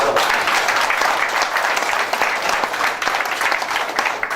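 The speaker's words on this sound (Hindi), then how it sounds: "फिर से एक बार आपकी उड़ीसा वाली ताली सर को चाहिए" Dense, steady applause from an audience at an Odisha product-training gathering fills the whole stretch, loud and sustained with no pauses or talk.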